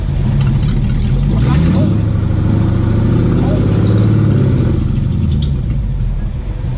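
A V8-swapped Jeep Comanche engine revs steadily and loudly up close while its wheels spin, a continuous low drone that rises and falls slightly, with people talking over it.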